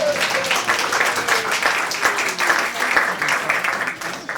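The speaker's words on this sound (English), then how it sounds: "Give them a round of applause." An audience at a monthly arts gathering featuring Hopi quilts applauds steadily, dense overlapping claps from a room full of people, continuous and moderately loud throughout with a faint voice briefly beneath.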